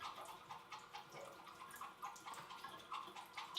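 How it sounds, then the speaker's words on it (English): Running water rinses a real-hair makeup brush, a faint, steady trickle and splash close by, continuous for a few seconds with no voice. "And then after that, I rinse it out."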